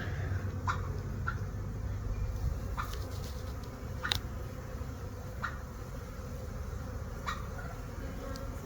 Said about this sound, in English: The bees are definitely a buzz.